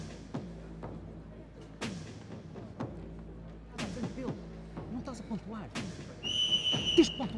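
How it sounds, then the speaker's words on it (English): A referee's whistle sounds near the end of a break between rounds at an MMA fight, shrill and sustained over thuds, background murmur and distant voices. "Heard the seconds out whistle."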